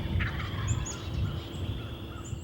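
A wild turkey gobbles loudly and close, a rattling burst of calls under steady outdoor background noise, with faint songbird chirps high above.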